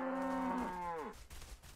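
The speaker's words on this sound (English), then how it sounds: "All my cows!" Cows moo in the video game Everything, a single long, clear, close bovine call that slides downward and fades out within about a second, followed by quiet game ambience.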